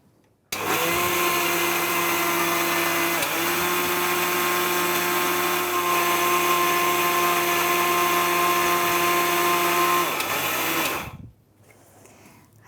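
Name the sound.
blender grinding spices and rice with salt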